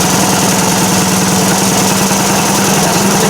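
A 1978 Indian moped engine fitted with an original carburetor and a NOS intake runs loud and close, holding a steady idle throughout as it warms up.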